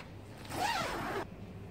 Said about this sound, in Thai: เปิดปิดได้เป็นซิปแค่เดียว